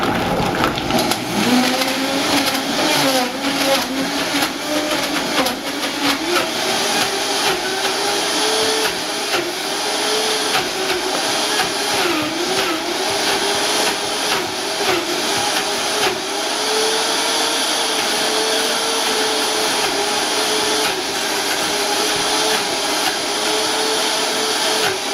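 A blender roars steadily as it blends a thick soy-based chocolate smoothie with a tamper pushing it down, a loud continuous motor whine that shifts slightly in pitch as the mix thickens, with no voices.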